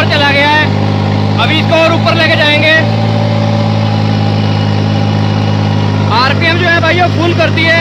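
A 3630 tractor engine running above normal speed, a loud steady low drone with strong harmonic bands throughout, overlaid by raised voices talking near the start and again toward the end.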